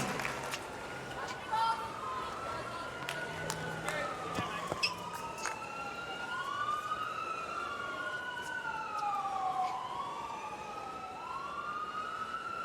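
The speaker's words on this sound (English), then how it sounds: "Sirens in the background." Wailing sirens sweep up and down in the background at a US Open tennis match, overlapping one another and continuing throughout beneath a steady noisy ambience.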